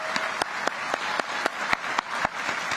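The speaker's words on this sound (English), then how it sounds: "let's give a round of applause for all of our recipients" An audience at a 2022 President's Meritorious Service Awards ceremony applauds the award recipients: a continuous bed of clapping with a few sharp, distinct claps standing out near the front.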